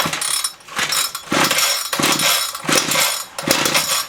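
A Ryobi HT26 two-stroke hedge trimmer engine set to start with the choke on, giving a series of rough, loud mechanical bursts as it is pulled over, each surge rising and falling about every half second.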